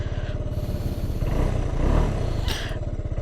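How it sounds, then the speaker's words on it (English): A Suzuki Burgman 200 scooter engine starts with a key ignition, then settles into a close, steady idle with a low rapid putter that swells briefly before holding even. "Let's start the bike now. Twist the ignition, uses a key by the way, brake in."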